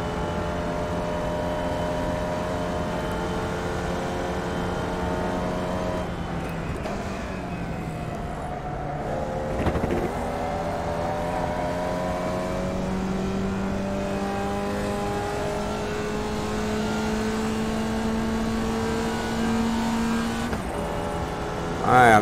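Formula Vee race car engine in iRacing at Oulton Park, a steady buzzing drone that climbs in pitch through the gears and dips with each shift, close and continuous, with a sharp blip at the very end.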